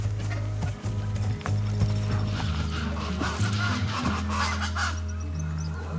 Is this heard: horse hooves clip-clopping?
yes